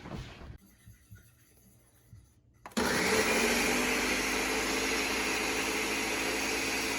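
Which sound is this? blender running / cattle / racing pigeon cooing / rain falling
blender running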